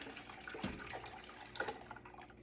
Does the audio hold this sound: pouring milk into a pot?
yes